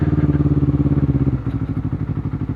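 Honda CBR 250RR twin-cylinder motorcycle on a test ride, its engine pulsing with a steady rhythmic throb close to the microphone, the pitch dropping about halfway through as the revs ease, heard alone without talk.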